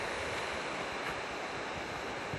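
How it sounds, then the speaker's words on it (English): Steady, broadband rushing of the Fox River flowing over rocks in a valley, heard close and continuous with some wind noise, no voices. "I'm crossing the Fox River for the last time."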